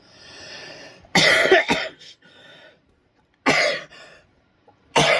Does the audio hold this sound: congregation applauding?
no